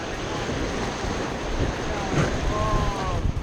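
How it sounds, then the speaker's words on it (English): Rushing grade 2 and 3 rapids on Bali's Ayung River roar steadily in a broad wash of water noise during white water rafting, with wind buffeting the microphone and faint voices underneath. "The river's rapids are grade 2 and 3"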